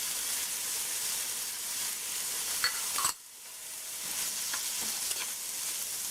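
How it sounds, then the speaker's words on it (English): Garlic and pepper sautéing with onion in a pan for a Trinidadian fried eggplant and potato dish, a steady broad sizzle that briefly drops away near the middle, then resumes with a few small clicks of stirring. "we're going to add the garlic as well as the pepper"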